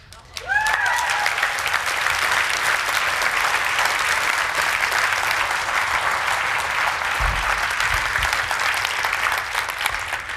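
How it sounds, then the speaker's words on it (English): Audience clapping in a lecture setting, a loud, dense burst of applause rising suddenly and holding steady for about ten seconds, with a brief voice near the start. "I know everybody's clapping"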